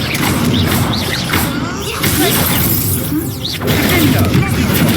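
A Confringo blasting spell explodes in the Hogwarts Legacy video game amid a dense, continuous mix of crackling bursts and layered game effects, loud throughout with voice present.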